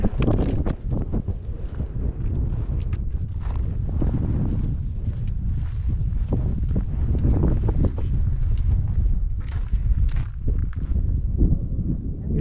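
Steady, loud wind gusts buffet the microphone on a mountain backpacking trail in the Wind River Range, a continuous low roar with no voices.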